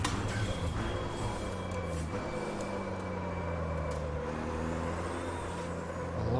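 A Formula Truck at the Taruma circuit in the Automobilista racing game brakes hard into a corner, its heavy engine note dropping in pitch under a steady drone with a faint air-brake hiss.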